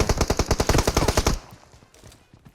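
Automatic weapon fire in a PUBG-style battle royale match, a fast burst of about fifteen sharp, evenly spaced shots lasting over a second, then abrupt quiet with faint trailing sounds.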